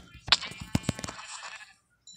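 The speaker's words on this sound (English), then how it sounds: "Sheep!" A sheep bleats in the WitchCraft video game, a short wavering call repeated in a quick burst, close and fairly clear, followed by a brief silence.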